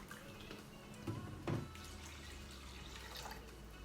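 Distilled water trickles and splashes into a container, with a couple of louder pours or drops breaking through the quiet, steady running.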